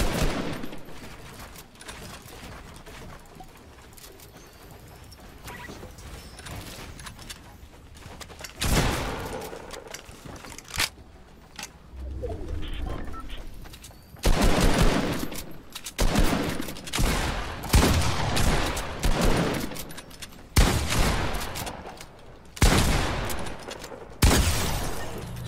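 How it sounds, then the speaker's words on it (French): Gunfire in a Fortnite match: a quiet stretch gives way to repeated loud bursts of shots and explosions, close and dense in the second half. "Il y a un autre mec qui me tire dessus."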